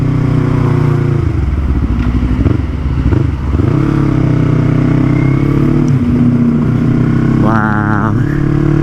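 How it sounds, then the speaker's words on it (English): A Yamaha MT-03 with a full Akrapovic exhaust and no tune roars loud and close while riding, its engine note rising and dropping through throttle blips and downshifts, with a brief voice near the end. "Oh my gosh, the downshift sounds so good now."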